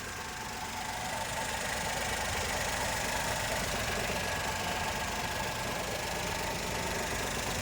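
A 2016 Maruti Wagon R VXI AMT automatic car engine idles steadily up close, with a constant mechanical hum and a fine, even ticking rattle throughout, no voices.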